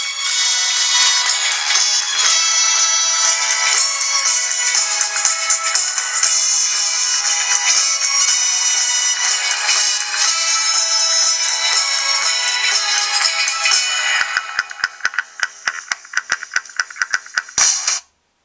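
Music plays loudly through the small speaker of a T-Mobile Samsung Dart phone, a thin, bright continuous song filling the whole stretch before stuttering into choppy bursts and cutting off at the end.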